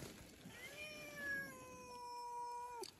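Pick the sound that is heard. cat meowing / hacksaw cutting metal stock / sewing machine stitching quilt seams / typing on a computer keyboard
cat meowing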